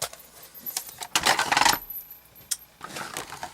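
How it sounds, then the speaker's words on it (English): A paper cutter is taken out, producing clattering, rattling handling noises in short bursts, with a louder cluster in the middle and fainter knocks before and after. "So let's get my paper cutter out."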